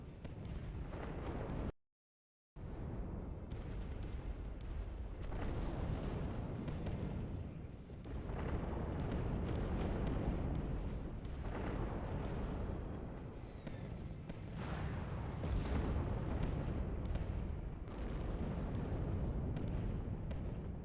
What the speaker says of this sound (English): And more radiation bombs coming at the surface of the planet.